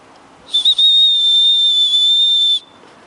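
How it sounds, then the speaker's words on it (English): A shrill emergency whistle from a Leatherman Signal multi-tool gives two quick short chirps, then one long steady blast of about two seconds, loud and close, ending abruptly. "you pull it out, and you have the emergency whistle."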